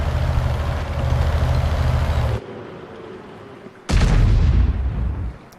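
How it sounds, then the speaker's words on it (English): Heavy gun of the Gorilla tank destroyer firing in World of Tanks, heard as a loud broadband boom that cuts off abruptly, then a second big blast after a short lull of quieter rumble. "so that big boom was probably the Gorilla firing"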